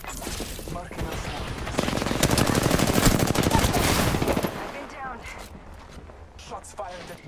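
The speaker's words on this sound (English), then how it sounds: "Shots fired at me." Close, rapid automatic gunfire from the battle royale shooter Apex Legends, a dense rattling burst lasting several seconds before thinning into scattered clicks and movement, with a voice talking over it.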